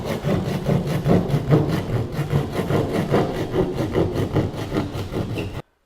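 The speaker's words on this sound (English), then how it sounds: "switch over to our drywall knife, and I'm going to go ahead and cut this bad boy out" A blade rasps back and forth through drywall in a steady sawing rhythm, close and loud, stopping abruptly at the end.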